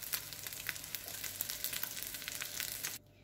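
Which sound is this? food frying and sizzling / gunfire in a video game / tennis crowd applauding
food frying and sizzling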